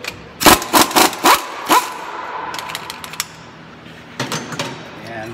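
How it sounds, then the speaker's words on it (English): Impact wrench on 18 mm caliper bracket bolts during a Mercury Mountaineer or Ford Explorer brake job, several loud sharp rattling bursts in quick succession, then quieter clicks and a final short burst, close. "These are 18 millimeter, by the way. I'm just gonna use an impact and remove those."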